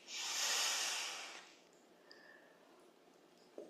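A long, audible breath, likely an exhale, during a yoga stretch in a morning practice, close and soft with an airy hiss lasting about a second and a half, then fading to quiet with small faint clicks.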